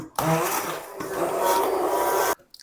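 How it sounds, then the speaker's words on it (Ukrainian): A handheld blender whirs steadily through thick spinach pancake batter of flour and milk for about two seconds, starting and stopping abruptly. "та збиваємо блендером."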